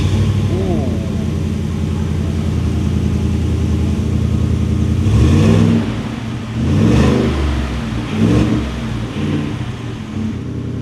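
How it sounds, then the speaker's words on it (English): A Ford truck with the base engine idles with a rumbling exhaust, then revs three times in quick succession, each blip swelling loud and falling back to a throaty idle. "But even with the base engine, the exhaust sounds incredible."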